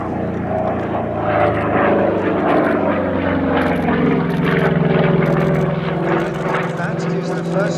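A 1944-era P-47D Thunderbolt propeller fighter rolls overhead, its big piston engine giving a loud, continuous droning roar that shifts slightly in pitch as the aircraft turns.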